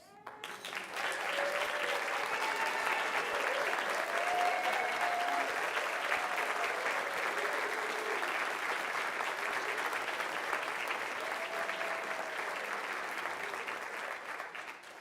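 A full audience applauds the finalists at a state principal of the year ceremony, a dense, even roar of clapping that swells in quickly, holds steady for about fifteen seconds and tapers slightly at the end, with faint voices beneath.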